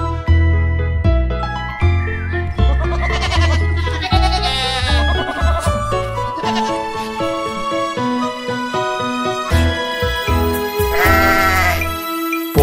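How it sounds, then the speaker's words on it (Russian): Sheep bleating from a children's nursery rhyme about Little Bo-Peep, set over a busy musical backing; repeated wavering bleats rise above the melody, with one prominent bleat near the end. "послышалось блеяние ей"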